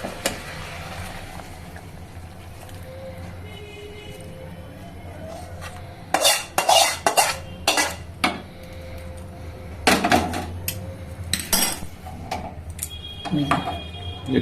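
Spice added and stirred into pabda fish curry, heard as a quiet background hum followed by sharp clinks and scrapes of a spoon against a metal pan in irregular bursts, with brief speech nearby.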